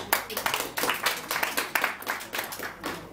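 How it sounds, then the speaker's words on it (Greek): A seminar audience claps for about three seconds after being called on during a talk about personality types, a dense, steady patter of many hands close by with faint voices underneath. "Ένα χειροκρότημα και σε εσάς."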